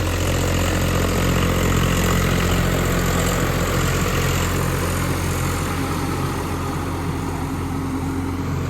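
A Swaraj 744 FE 4WD tractor engine runs at a steady pace. A loud, continuous low diesel drone holds evenly from start to finish, with no voices.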